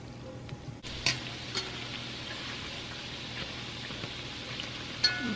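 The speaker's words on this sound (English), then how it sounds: "I'm frying them slowly but surely. I have this on medium heat" Dumplings deep frying over medium heat: steady, low oil sizzle and crackle, with a few small pops and clinks standing out above the constant hiss.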